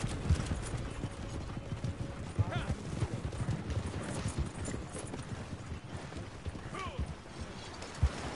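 Horse hooves clip-clop in Red Dead Online as a horse gallops and tumbles, with rapid, uneven hoofbeats and thuds up close under ongoing game sounds.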